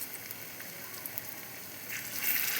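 Spinach fritters (bora) frying in hot oil, a steady soft crackling sizzle that swells slightly louder toward the end, with no voices.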